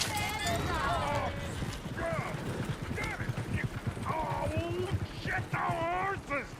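Horses galloping in the Red Dead Redemption 2 game world, a rapid drumming of hooves running underneath loud overlapping voices speaking throughout.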